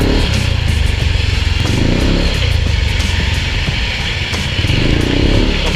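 A Yamaha Aerox scooter with a JVT Pipe V3 exhaust and stock engine revs loudly and steadily nearby, its deep, bassy exhaust note holding a sustained drone with slight surges throughout.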